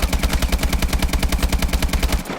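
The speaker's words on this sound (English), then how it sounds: "So this is the normal AK12 recoil pattern." An AK12 assault rifle in Call of Duty Advanced Warfare fires a sustained fully automatic burst at a wall: rapid, evenly spaced loud shots for about two seconds with no talk.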